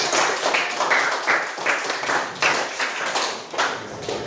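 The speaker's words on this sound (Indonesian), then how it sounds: "Beri tepuk tangan." A classroom of students clapping together in applause, a fairly close patter of hand claps in uneven bursts that rise and dip across the few seconds, with no talking over it.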